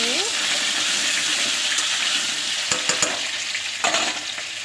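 Potatoes fry in a wok with a close, continuous hiss and sizzle, broken by a couple of sharp stirring scrapes late on.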